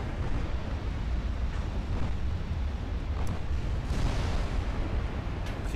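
Naval gunfire and explosions in the warship game Ultimate Admiral Dreadnoughts form a loud, dense, continuous rumbling roar with muffled booms blending together throughout.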